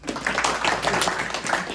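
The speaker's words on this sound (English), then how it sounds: "Another round of applause" An audience at a comics panel event applauds, many hands clapping in a thick continuous patter that fills the room, near and steady throughout.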